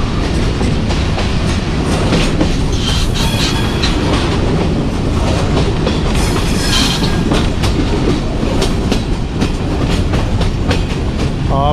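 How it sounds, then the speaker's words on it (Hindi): A Jand passenger train, 204 Down, runs on rails approaching Jand Junction in Pakistan, heard from the guard van. There is a steady, loud rumble with continuous clickety-clack of the wheels throughout. "जंड जंक्शन के ऊपर अप्रोच कर रही है 204 डाउन जंड पैसेंजर"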